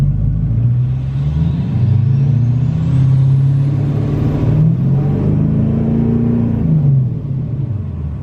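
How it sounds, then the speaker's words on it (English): A 2019 L5P Duramax diesel pickup engine revs steadily upward to its fuel cut, a loud, close, continuous rumbling drone that climbs in pitch for several seconds and then eases off, with no talking. "you want to gradually rev it up to the fuel cut"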